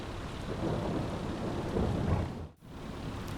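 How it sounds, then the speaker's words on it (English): Rain and thunder in the Farming Simulator 22 video game, a continuous wash of heavy rainfall with deep rolling thunder swelling underneath, steady and fairly loud, with a brief sharp dip near the end. "Bloody hell, we've had a bit of rain."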